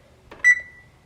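A digital kitchen timer, set for bread proofing, gives a short electronic beep, one clear tone after a faint button click, close by and alone.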